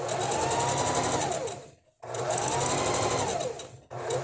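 A sewing machine stitches practice shapes in two fast, even runs, each slowing to a stop with a short pause between them, close and clear with no talking.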